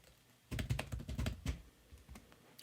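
Typing on a computer keyboard while composing a Slack message: a fast, close run of light key clicks with brief pauses, quiet and without talk.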